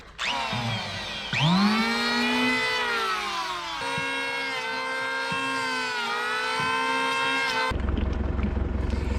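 A wooden Dutchman patch is shaved off a wooden boat hull with a power tool, which whines loudly and steadily with its pitch rising and dipping as it bites, then changes to a rougher buzz near the end.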